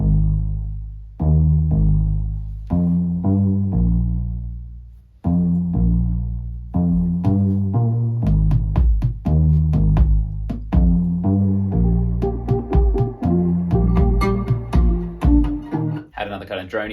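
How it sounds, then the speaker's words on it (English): A synth bass line drives along with a drum machine beat, sharp repeated hits layered over sustained low tones and gradually thickening toward the end; no voices. "Coupled that with this synth bass."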